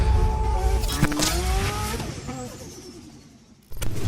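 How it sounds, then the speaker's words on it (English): A 607 bhp stage 4 Mark III Seat Leon Cupra driving, its engine note rising and falling through gear changes with a tire squeal, loud and close before fading, then a sudden burst of noise at the end. "today we are back in my 607 brake horsepower Seat Leon Cupra"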